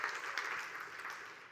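Audience applause at a documentation conference talk in Portland, a steady crowd clapping that holds at a moderate level throughout without much rise or fall.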